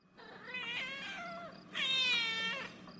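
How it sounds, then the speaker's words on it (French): Two drawn-out, wavering cat yowls sound close by, the second louder, like cats squabbling, with no talk over them. "J'entends des miaulements."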